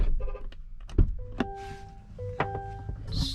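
Door of a GMC Yukon Denali truck shutting, with a solid nearby thunk followed by a second closing clunk and faint mechanical whirs and ticks around them.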